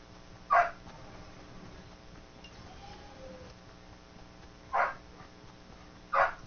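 A dog barks in three short, sharp bursts, once near the start and twice more toward the end, with quiet background between barks in what sounds like a video game setting.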